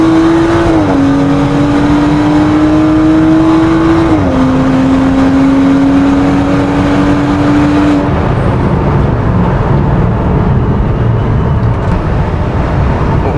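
A 400 bhp BMW M135i race car running a stage 1 map on a track: loud, sustained engine drone close to the microphone, with held notes that drop slightly at gear shifts before giving way to rough, steady road and wind roar.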